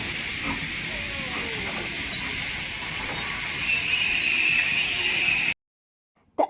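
A steam locomotive on a heritage railway hisses steam in a loud, continuous rush as it pulls away, with faint clanks underneath before the sound cuts out abruptly.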